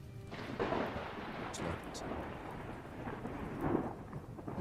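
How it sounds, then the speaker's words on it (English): A thunderstorm with steady rain hisses softly throughout, while low rolling thunder rumbles swell and fade at moderate distance. "Stormy day, which is good."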